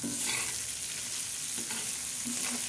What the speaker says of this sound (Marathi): आता आपली ही चटणी छान अशी तळत आहे